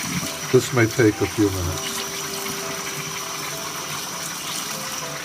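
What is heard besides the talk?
rinsing rice under running cold tap water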